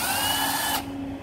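Japanese cordless drill spinning fast, a steady high whine with a motor hum that cuts off abruptly near the end, loud and close with no talking.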